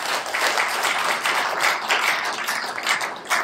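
An audience at a Brahma Kumaris spiritual talk claps for a speaker, a dense, even burst of applause sustained for a few seconds at close, loud level with no voices over it.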